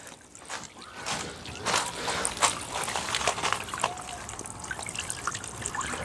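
A solar-powered water fountain, just plugged in, sprays water high into the air, producing a steady splashing trickle with bursts of louder spray and faint talk in the background.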